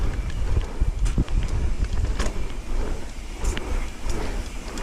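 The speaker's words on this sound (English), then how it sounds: "Oh yeah, that wind already." Wind rushes past a mountain biker heading downhill on a Kingdom Trails route, a steady buffeting roar with gusty swells, broken by scattered bumps and rattles from the trail.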